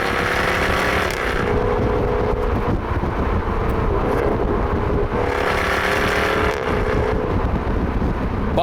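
The 5-litre supercharged V8 of a Jaguar F-Type P450 First Edition AWD drones loud and steady from inside the car, swelling slightly in waves with wind noise mixed in and no one talking.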